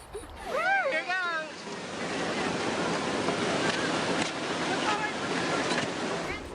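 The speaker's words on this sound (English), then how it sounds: "You hear the sound of the falls." Class 4 waterfall roaring as a steady, loud broadband rush that fills the whole clip, with a brief voice-like or bird-like warble near the start.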